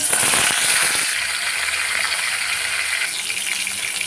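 Pieces of pointed gourd (potol) fry in hot oil with a loud, hissing sizzle that bursts up at first and then settles into a steady close crackle.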